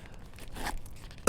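Plastic bags holding dry gear in a personal pouch on a winter bikepacking trip crinkle and rustle softly and steadily for a moment, ending in a sharper crackle.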